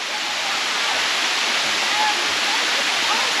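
Bua Thong sticky waterfall near Chiang Mai, a constant dense roar of falling water, close and loud, steady throughout with no pauses.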